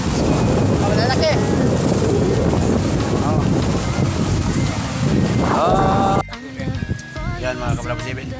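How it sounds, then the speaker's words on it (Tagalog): Strong wind and large sea waves at a beach, with loud, steady wind buffeting and surf rumbling for about six seconds, then easing into quieter water sounds with some voices. "Kasi malakas ang alon. Ayan. Mahangin. Mahangin."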